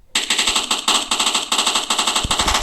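Rapid automatic gunfire from a Minecraft gun mod, loud and close, a continuous stream of even, fast shots with brief gaps between bursts.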